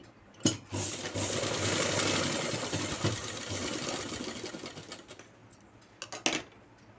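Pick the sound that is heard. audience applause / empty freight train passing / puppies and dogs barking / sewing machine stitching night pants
sewing machine stitching night pants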